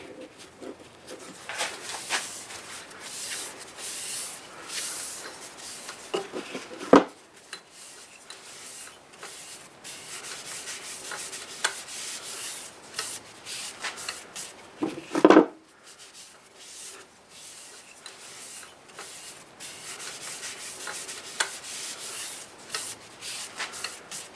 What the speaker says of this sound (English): Now we'll go ahead and use the Acks abrasive paste on it